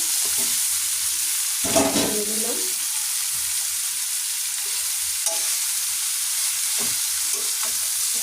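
Jackfruit pieces dropped into a pan of hot oil with previously boiled shrimp, giving a loud, steady hiss of frying with a brief burst of stirring scrapes partway through, no voices.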